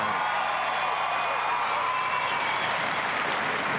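A packed arena at the 1996 Westminster Kennel Club Dog Show breaks into continuous applause, dense clapping mixed with crowd noise and a few cheers, steady from start to finish.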